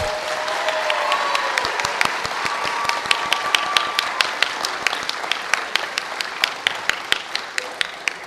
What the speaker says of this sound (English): let's give them a quick round of applause in the booth